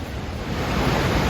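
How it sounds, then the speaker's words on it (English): Whitewater Falls in North Carolina, seen through trees from a trail, sends out a steady, broad rushing roar that fills the air without a break. "right through the trees there, I don't know if you can see it or not, is the top of the falls"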